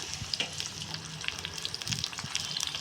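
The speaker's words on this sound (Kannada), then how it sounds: "ಲೋ ಫ್ಲೇಮ್ ಮೇಲೆ ನೋಡಿಕೊಂಡು ಫ್ರೈ ಮಾಡ್ಕೊಳ್ಳಿ" Long-sliced onions fry in a pan over a low flame, giving a soft, continuous sizzle flecked with small crackles and the occasional stir, fairly quiet and without talk.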